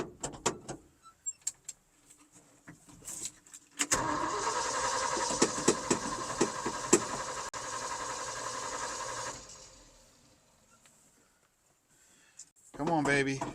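A Ford F600 truck's engine cranks with a few short clicks and turns, then catches and runs loudly for several seconds before cutting out. A voice briefly speaks afterward.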